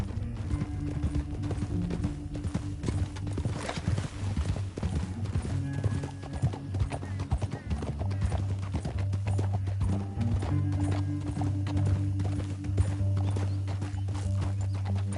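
Horse hooves clip-clop steadily over ground in Red Dead Redemption 2, a continuous irregular patter of several horses with a low rumble beneath and an occasional brief whinny, with no speech.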